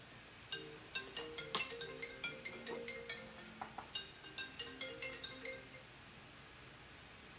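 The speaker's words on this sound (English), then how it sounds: "I don't answer unknown phone calls." A phone ringtone plays a melody of short, bright chiming tones in a steady repeating rhythm, moderately faint, with no talking.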